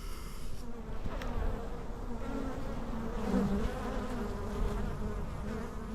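A honeybee swarm flies into a swarm trap outdoors, giving a dense, continuous buzzing drone with individual bees passing close by, steady throughout.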